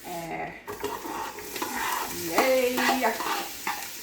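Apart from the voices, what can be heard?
vegetables stir-frying in oil for fried rice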